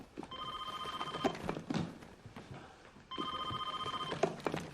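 A telephone rings in two bursts separated by a short pause, each a trilling electronic bell heard at moderate distance in a quiet room.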